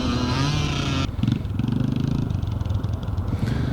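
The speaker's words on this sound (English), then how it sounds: "It's Carol Kavanagh on the DT125 Yamaha." A Yamaha DT125 motorcycle races in a classic scramble, its two-stroke engine buzzing loudly and steadily near the listener, with a brief drop at about one second before the revving continues.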